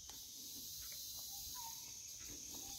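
A steady, high drone of cicadas fills a forest evening, with faint bird whistles now and then in the background.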